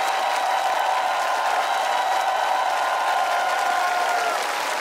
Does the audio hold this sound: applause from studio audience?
yes